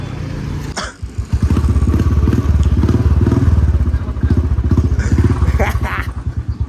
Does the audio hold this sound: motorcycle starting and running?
yes